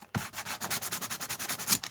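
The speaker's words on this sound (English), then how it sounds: "So when I was at Walmart the other day, I bought myself a sand block." A sanding block rubbed over a page of an altered steampunk junk journal, giving quick, even back-and-forth rasping strokes, close and steady, with no talking.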